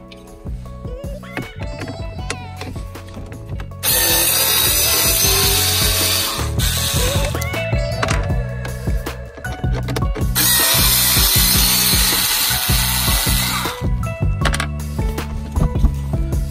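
T20 screws are undone from the heater control of a Renault Megane MK3, with loud, close ratcheting clicks and two long stretches of continuous mechanical whirring between them.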